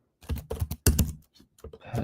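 Keystrokes on a computer keyboard come in short uneven bursts of sharp clicks and thunks, close and fairly loud, with brief pauses between groups and no speech.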